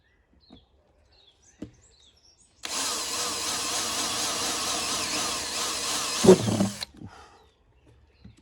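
After a quiet stretch, a power drill whines loudly and steadily for about four seconds drilling into steel on a Land Rover Defender, then stops abruptly.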